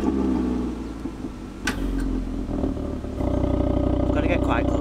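An Audi RS3 engine and exhaust rumble at idle from close by, a steady low drone that deepens and grows a little louder toward the end, with people talking over it.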